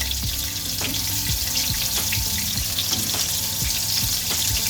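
Moroccan kefta meatballs pre-cooking in a pan make a constant loud sizzle, with repeated soft knocks and bumps as the meatballs are shifted around.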